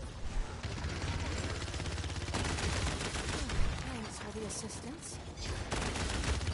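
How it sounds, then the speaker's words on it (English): Submachine gun fire rings out in a first-person shooter video game, bursts of rapid shots over dense game noise and background sounds. "It's a submachine gun."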